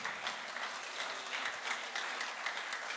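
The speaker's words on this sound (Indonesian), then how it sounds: "Tepuk tangan yang lebih keras untuk Tuhan Yesus saudara." A church congregation applauds during a Sunday worship service, a dense, continuous crowd of claps with rhythmic surges, moderately distant and steady for the whole stretch.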